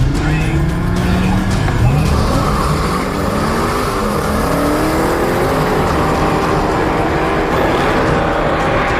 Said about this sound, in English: we're gonna do burnouts again, but this time it's an actual race to see who can cross the finish line with the tires on fire